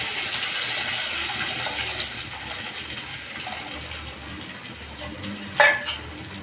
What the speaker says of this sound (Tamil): அந்த புளி தண்ணியை அதில் சேர்த்துக்கிறோம்